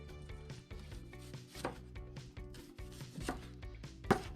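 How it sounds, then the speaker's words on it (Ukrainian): Onion sliced by knife into thin whole rings for a marinade, with a run of soft repeated cuts and board taps close by, several sharper knocks standing out, and no talking. "Нарізаємо цибулю цілими кільцями і як можна тоньше."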